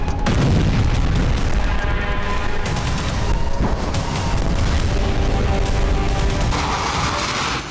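Heavy Israeli air strike explosions across Lebanon rumble as a dense, booming roar with overlapping deep blasts and crackling debris, loud and continuous throughout, with no voices.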